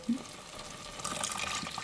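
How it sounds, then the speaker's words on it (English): Water is poured into a cooking pot while making gluten-free, dairy-free butter chicken: a brief, steady splashing rush, close and moderately loud, with no talking. "So I'm gonna add some water here."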